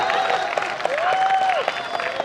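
Audience clapping at a Hindi poetry recital, a steady patter of many hands with a few whistle-like tones sliding over it, fairly close and sustained throughout.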